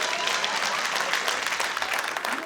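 Continuous audience applause at a stand-up comedy show, a thick steady wash of many hands clapping at close range, with no speech over it.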